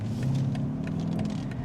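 The V8 of a 2023 BMW X6 M50i runs in Sport Plus mode, a low, moderately quiet engine rumble heard from inside the cabin with a steady hum and slight rises in pitch.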